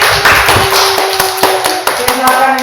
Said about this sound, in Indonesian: tepuk tangan buat Indri